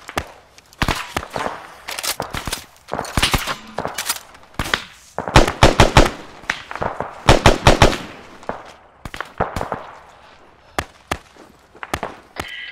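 Sustained Arma 3 covering fire crackles in repeated bursts of sharp rifle and machine-gun shots, loud and close, separated by short pauses over about twelve seconds.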